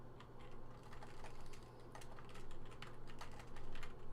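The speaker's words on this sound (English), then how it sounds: "make a lot of typos and then retype our variable name" Rapid, uneven clicking of keys on a computer keyboard, close and fairly quiet, typed in short bursts with brief pauses over a low steady hum, no voices.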